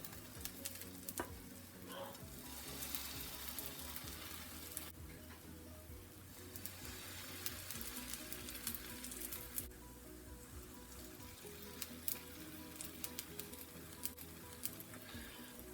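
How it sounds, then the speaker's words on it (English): Pumpkin pancake batter sizzles steadily on a hot griddle, a dense continuous crackle with a low hum underneath, holding at an even loudness the whole way through with no voices. "we're just going to scoop the batter and put it right on the griddle"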